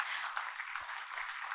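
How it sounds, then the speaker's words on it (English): An audience applauds company promoters and team members at a listing ceremony, steady dense clapping from a crowd that carries on evenly throughout, moderately loud and without talk. "I would like to ask our audience to give the promoters and the team members the loudest of applause that they"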